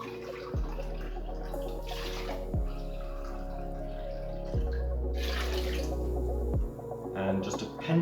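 Water pours into a pot of oats for porridge in a few separate close splashing bursts over a low steady hum, with no talking.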